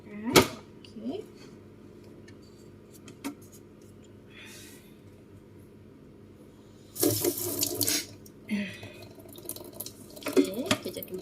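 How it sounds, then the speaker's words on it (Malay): Tap water runs into a used cooking pot in a home kitchen, coming in short bursts of splashing and filling with quieter gaps between, close by. "Masukkan air."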